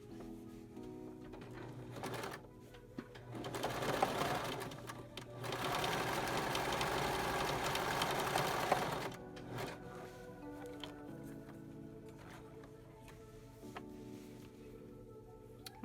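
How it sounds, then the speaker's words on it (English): A sewing machine stitches the small tie casing on a fitted face mask for glasses, with two close, steady runs of rapid mechanical whirring and short pauses between them. "So I'm going to sew the small casing for where the tie is going to go through first."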